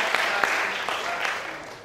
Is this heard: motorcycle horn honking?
no